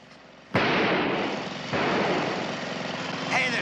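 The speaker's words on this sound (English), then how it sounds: "The gas will explode." A gas explosion in a classic mystery drama goes off with a sudden loud blast, then a second surge, leaving a sustained roaring rumble that fills the scene and slowly fades.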